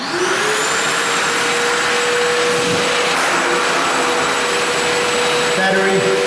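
A Milwaukee M18 cordless vacuum runs with a loud, steady whine and airy rush, holding an even pitch near the microphone, with a brief shift in tone near the end.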